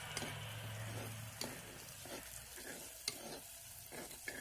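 Ingredients sautéing with salt in a pan for a Kerala-style dried prawn curry, a steady sizzle with repeated scraping stirs of a spoon, close and fairly quiet, no voices.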